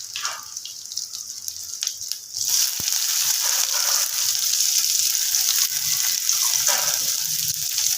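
Chopped onion sizzles steadily in hot oil in a pan while fish kalia with cauliflower and bhetki is being prepared, the frying hiss jumping louder after a few seconds and then holding, with no talking.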